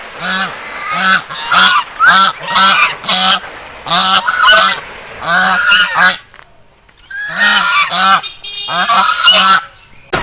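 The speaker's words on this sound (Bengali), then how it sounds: "দুটো রাজহাঁস খুব প্যাঁক প্যাঁক প্যাঁক প্যাঁক করছি" Two geese honk loudly and close by, a rapid run of harsh, nasal calls in short bursts with one brief pause midway before the honking resumes.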